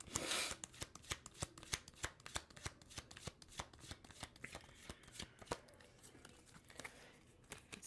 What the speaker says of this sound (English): Let's just finish out this shuffle.